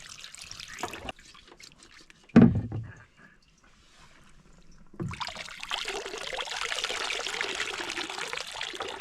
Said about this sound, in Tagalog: Then, banlawan natin ng tubig.